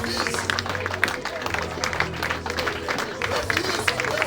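A church congregation stamps its feet and cheers in a loud, continuous rumble of thumps, claps and shouts, with a voice talking over the noise throughout.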